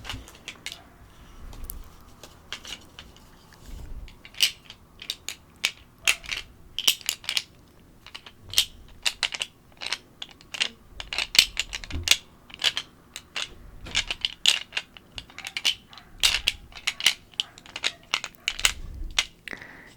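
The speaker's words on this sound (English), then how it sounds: "a set of dice. One D4, a 1D6." A set of polyhedral dice, D4, D6 and D8 among them, rattles and clicks in a bag in rapid, irregular bursts of sharp clattering, close and fairly crisp, with no talk.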